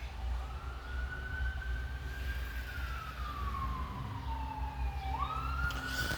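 An ambulance siren wails with a long, slow rising and falling tone, continuous over a steady low traffic rumble, moderately distant and with no voices.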